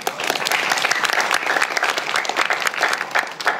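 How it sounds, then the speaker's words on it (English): An audience at a youth leadership forum gives a sustained round of applause, dense and continuous clapping throughout with a faint crowd murmur. "can you give yourselves another big round of applause?"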